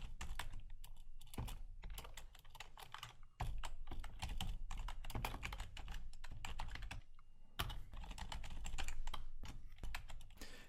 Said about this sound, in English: we can just simply type in a couple of things